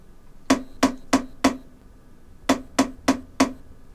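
A drumstick rebounding off a drum in two quick groups of four crisp strikes separated by a short pause, close and clear with nothing else underneath.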